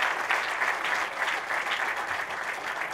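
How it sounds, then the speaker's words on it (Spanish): An audience at a political candidate registration event in Mexico City gives sustained, dense applause, steady and fairly close, with no speech over it. "un abrazo y un aplauso y todo mi reconocimiento."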